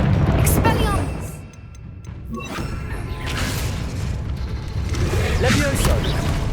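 A spell-cast effect from the video game Hogwarts Legacy, a Disarming charm fired in a forest encounter: a loud magical whoosh and burst with crackling, rumbling impact layered over continuous game sound, and a voice speaking.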